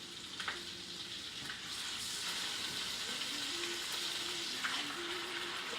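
Chicken browning in a pan with butter and garlic, a steady close sizzle and crackle that holds throughout, with occasional faint clinks and stirring.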